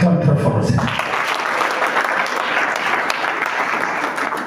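A church congregation bursts into loud, sustained clapping that fills the space, following a brief voice at the very start.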